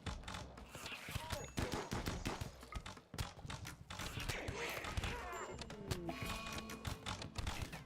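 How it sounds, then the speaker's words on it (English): Dense gunfire in RimWorld, with rapid overlapping shots and bursts aimed at a colonist, rattles continuously at close range throughout, mixed with thuds and impacts while a voice talks underneath. "Can you guys stop shooting me?"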